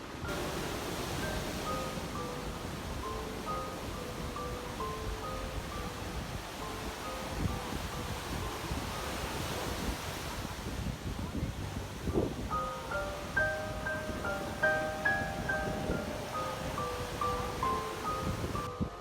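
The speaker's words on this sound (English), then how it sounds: "This is what the surf looks like right now." Ocean surf on the beach at Cancun ahead of Hurricane Delta, a steady wash of breaking waves mixed with gusty wind across the microphone, with faint tonal sounds in the background and no talk.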